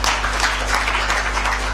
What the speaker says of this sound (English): Surely we can clap better than that